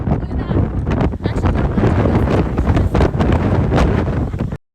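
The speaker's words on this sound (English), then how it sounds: "the biggest, wind event of the season here in Boulder" Heavy wind buffets the microphone in a constant roar with rough surges during a strong wind event in Boulder, loud and close, cutting out abruptly at the end.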